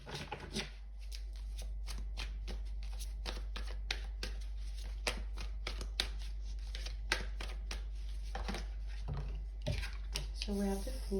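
A deck of tarot cards is shuffled by hand, with continuous close riffling and flicking and sharper snaps at intervals, over a low steady hum.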